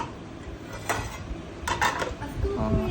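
Metal cookware, a wok and pans, clinks and clatters a few times in quick bursts, close by, over a quiet room background.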